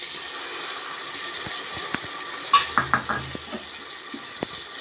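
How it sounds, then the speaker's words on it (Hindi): Garlic-ginger paste being stirred into softened cooked tomatoes in a pan for egg biryani, with soft scraping and wet clicking strokes of a spoon clustered near the middle, faint and close over a quiet low hiss. "लहसुन अदरक का पेस्ट डाल के इसे अच्छे तरीके से चला लेते हैं।"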